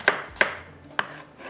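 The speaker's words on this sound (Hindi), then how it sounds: "स्लाइस में प्याज कटिंग करेंगे" Onions are sliced for chicken karahi, three crisp knife chops landing on a cutting board at an uneven pace. The sound is close and clear, with no voices.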